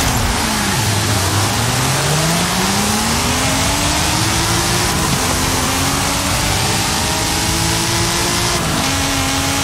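A NASCAR car held at full throttle in Forza Horizon 5, S1 class with no traction control, its engine roaring loud and continuous as it revs, shifts and pulls hard, with no voices.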